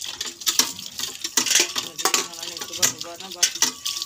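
A utensil scrapes and clinks rhythmically against a metal pot in a village kitchen, a quick busy patter of stirring and clatter close by with no talk.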